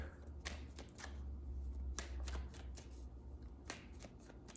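Tarot cards being shuffled in quick riffling bursts, close up, with brief pauses between rounds of crisp flicking.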